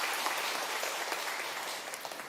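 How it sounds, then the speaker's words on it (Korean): A church congregation at a Sunday service applauds its choir, producing a dense, even wash of clapping with scattered sharper claps that fades slightly toward the end. "우리 같이 격려와 우리 힘을 다해 박수 한번"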